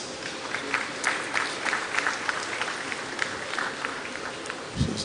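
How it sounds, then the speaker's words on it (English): An audience at a conference hall applauds as a speaker makes his way to the stage, with steady, moderate clapping from a crowd and a soft thump near the end. "I would ask you to applaud him as he comes."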